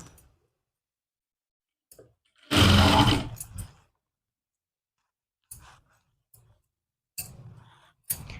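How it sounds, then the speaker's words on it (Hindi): A sewing machine runs a thick basting stitch along the hem of a lined suit, giving one loud burst of stitching about a second long, with a few scattered clicks and handling noises before and after. "इस पे हम लगाएंगे मोटे बखिए से सिलाई"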